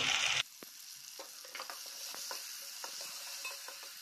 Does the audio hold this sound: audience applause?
no